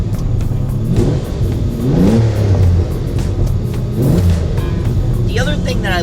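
A carbureted, European-spec downdraft Lamborghini Countach engine revs sharply in quick rising bursts, loud and close, the pitch climbing and dropping repeatedly with brief lulls between blips.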